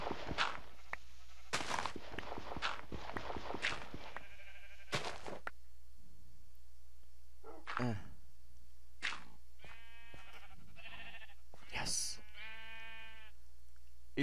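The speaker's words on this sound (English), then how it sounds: "sheep, you're being annoying." Sheep in the Minecraft video game bleat several times in short, separate calls, some with a wavering tremolo, between bursts of someone talking and game sounds on a quiet background.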